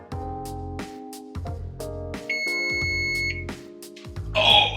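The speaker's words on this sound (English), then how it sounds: "is that the timer I just heard?" Oven timer on a kitchen stove signals that a batch of unleavened bread has finished baking, its steady electronic tone sounding over a few seconds along with some clattering and tonal sounds.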